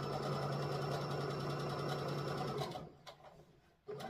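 A sewing machine stitches fabric for a bowl cover in one steady, continuous run, then stops abruptly, leaving faint clicks and handling noises.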